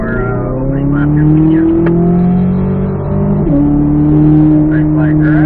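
A Corvette Z06 race car on its opening lap at Spring Mountain holds a loud, steady engine drone from inside the car, its pitch rising with throttle and easing slightly near the middle, while a voice talks over it.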